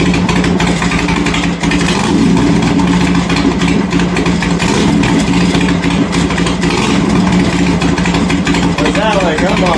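A Harley-Davidson Sportster 883 motorcycle engine runs steadily just after a choke start, a loud, close, continuous rumbling idle with slight revving, with a voice talking over it.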